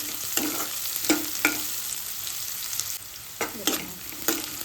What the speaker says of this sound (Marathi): कांदा जरासा ब्राऊन कलर होईपर्यंत आपल्याला भाजायचं।